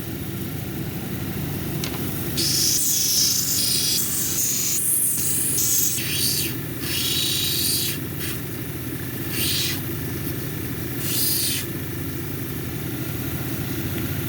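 A Sarape jasper cabochon is ground on a 220 grit wheel, giving a steady whirring motor drone with repeated bursts of higher, hissing abrasion as the stone presses against the wheel.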